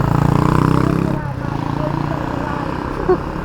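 Motorcycle engine of a tricycle taxi rumbling close by on a road, a steady pulsing drone that eases off after a second and keeps running beneath people talking.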